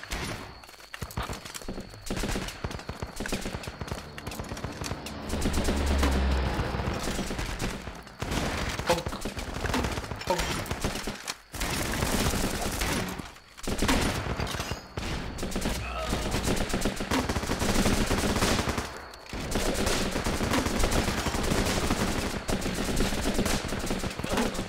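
Rifle fire in the game Running with Rifles, shot from a high position: dense, repeated bursts and single cracks of gunfire across the whole stretch, loud and close, with brief lulls between volleys.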